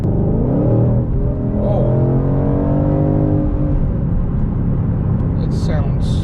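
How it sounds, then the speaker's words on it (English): A 2020 Shelby GT500 with its exhaust set to sport mode revs and pulls hard, with a loud, steady engine roar and rising harmonics close to the microphone. A voice briefly exclaims over it. "Exhaust is sport now."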